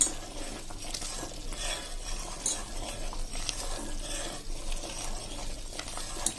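A spoon stirs in a pressure cooker over a soft, continuous sizzle of hot ghee made from cream on full flame, with occasional light scrapes and clinks of metal.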